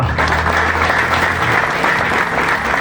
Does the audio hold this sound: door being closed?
no